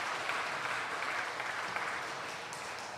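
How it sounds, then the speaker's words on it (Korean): Congregation at a church evening prayer service gives a brief, even round of applause for a children's worship choir, a dense wash of clapping throughout. "여러분 어린이부 찬양단 위해서 박수 한번 보내주시기 바랍니다."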